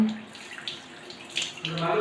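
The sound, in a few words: washing used tea leaves under running water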